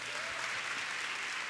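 Audience at a church youth revival rally claps steadily in a dense, even wash of applause that holds at one level throughout, with no voices standing out above it.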